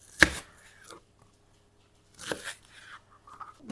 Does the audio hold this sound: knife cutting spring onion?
yes